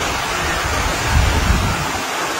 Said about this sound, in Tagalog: Hanggang sa naabutan na lang ng bagyo.